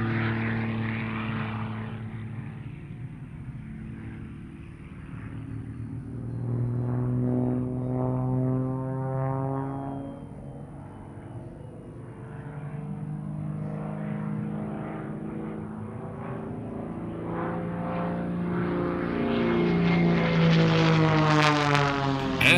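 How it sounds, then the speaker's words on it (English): A 1956 de Havilland Super Chipmunk propeller plane flies aerobatics at an airshow, its engine drone rising and falling in pitch as it climbs into a vertical maneuver and swells louder toward the end. "as Nathan continues and flies the GhostWriter into the vertical for his next maneuver"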